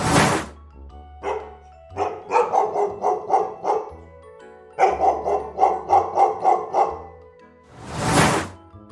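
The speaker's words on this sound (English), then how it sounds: "It's a dog." A dog barks in two quick rhythmic runs of loud, close barks, alone without talk, with a short whoosh at the start and end.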